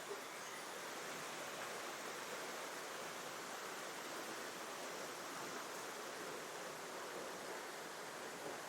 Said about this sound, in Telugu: ఇక్కడ కూడా వాటర్ ఫాల్ ఉంది